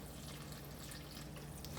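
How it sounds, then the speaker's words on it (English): Rice milk poured freely into yellow cake batter, a steady close liquid stream with a splashy, trickling wash that runs continuously for a couple of seconds without a break. "I'm going to add half of my rice milk. Again, just approximate. You can free pour it."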